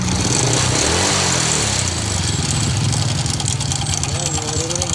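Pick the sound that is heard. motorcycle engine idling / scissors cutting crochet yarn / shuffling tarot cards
motorcycle engine idling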